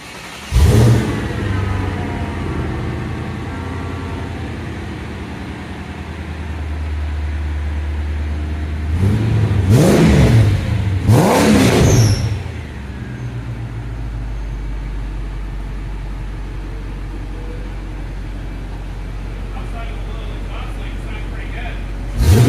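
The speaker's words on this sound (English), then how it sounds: "I'm going to start it for the first time with my catback exhaust." A Mercedes W211 E500 V8 engine with long tube headers and a new AMG catback exhaust cranks, catches and idles with a deep exhaust rumble, then revs sharply twice before dropping back to a low, steady idle; brief talk occurs.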